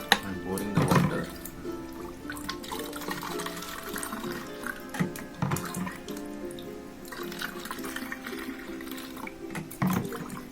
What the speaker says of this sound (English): I'm pouring the water.